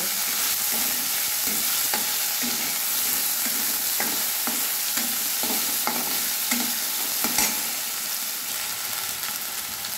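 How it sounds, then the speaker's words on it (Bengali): Potatoes fry in oil tempered with cumin for a papaya curry, giving a steady close sizzle with repeated scraping strokes of a stirring spoon throughout. "আলুগুলো দিয়ে দিলাম, আলুগুলো একটু ভেজে নেব।"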